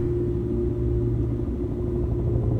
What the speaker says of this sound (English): Is that the evac chopper?